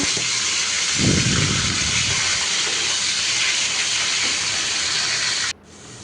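Onions dropped into a hot pan after frying fish give a loud, steady, close sizzle that surges briefly early on, then cuts off abruptly near the end. No talk.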